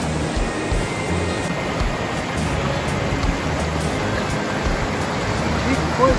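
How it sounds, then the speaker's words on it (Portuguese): A waterfall pours in a dense, steady broadband hiss and rumble, loud and close, constant throughout with no breaks. "Enquanto aqui tem essa cachoeira maravilhosa."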